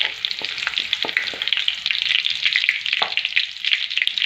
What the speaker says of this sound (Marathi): आता हा लसूण आपल्याला लाल रंगावर परतून घ्यायचा आहे म्हणजे आता खरपूस तळून घ्यायचा आहे